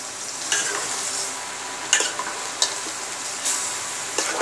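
Beef curry for Eid frying in oil in a pan, with a steady hiss of sizzling and a few sharp scrapes of a spoon stirring it at irregular intervals, close and alone.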